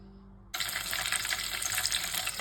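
Banana coconut fritters are dropped into hot frying oil, setting off a sudden loud, bright sizzle that holds as a dense, steady crackling hiss.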